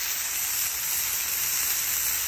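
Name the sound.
smash burger sizzling, frying in its juices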